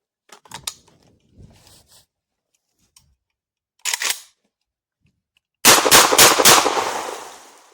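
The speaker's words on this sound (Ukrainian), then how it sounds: "Серія пострілів виконана успішно" A Safari HG-105 shotgun loaded with 32-gram, 70 mm shells fires a series of sharp, loud shots: scattered reports early on, a single blast near four seconds and a rapid cluster of several shots at the end.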